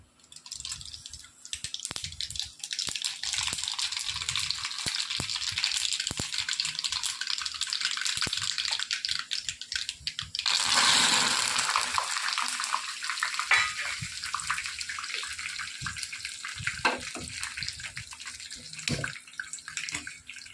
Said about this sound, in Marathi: आता मी फोडणी करून घेते भडंगासाठी.